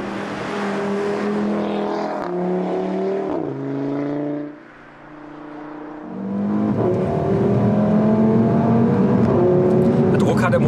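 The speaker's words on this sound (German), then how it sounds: "Der Motor ist schon ordentlich." A 2015 Audi RS3 Sportback engine pulls hard on a race track, its note climbing through gears with shifts and a brief lift before revving up again, loud and close inside the car.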